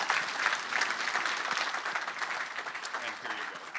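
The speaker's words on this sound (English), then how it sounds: "Everybody give a big round of applause for Dr." Audience applause for a doctor receiving an award at a regional chamber economic forecast event: steady, dense clapping from a seated crowd, moderately loud and even throughout, with faint voices mixed in.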